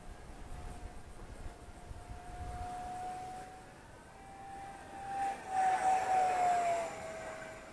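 Arrows T33 Shooting Star 50mm EDF RC jet in flight, a thin whining fan tone that drifts in pitch and swells louder as it passes nearer, set against outdoor background noise.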